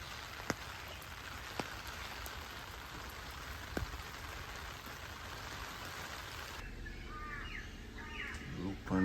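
Heavy continuous rain falls on a backyard garden with pots, a dense steady hiss with occasional heavier drips, and faint bird calls appear near the end.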